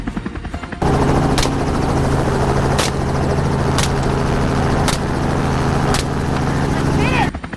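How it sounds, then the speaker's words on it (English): A helicopter flies close overhead during a wild boar hunt, its steady loud rotor drone holding throughout with a regular thumping pulse and sharp periodic cracks, starting abruptly after a quiet opening. "The pilot steered the helicopter closer, giving me a clear shot at the targets."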